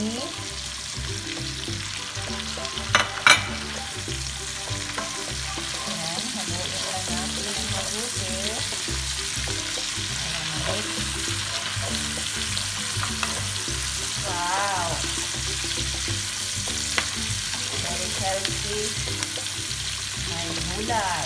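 Zucchini sizzles and fries steadily in a hot pan while being stirred, with scraping utensil clicks and a dense, continuous crackle throughout.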